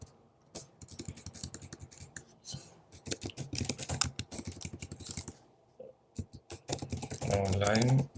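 Typing on a computer keyboard while drafting a functional requirement document, a steady run of quick close clicks and keystrokes, with a voice briefly speaking near the end.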